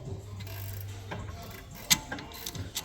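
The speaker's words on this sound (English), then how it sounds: "whilst I take these off with my 13mm socket" A 13mm socket on a ratchet loosens rear brake caliper bolts on an Audi, giving faint mechanical clicking and a low grinding hum, with one sharper metallic tick, close and fairly quiet with no talking.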